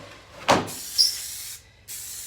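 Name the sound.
spraying a coat of paint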